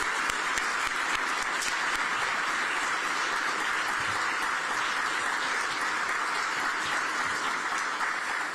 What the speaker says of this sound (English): So let's pause and give him a round of applause